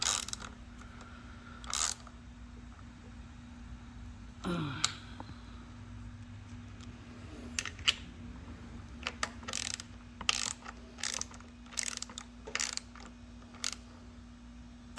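Bolts being snugged up on a motorcycle headlight mount, heard as scattered ratchet clicks and short mechanical bursts spread irregularly over the clip, close by against a steady low background hum.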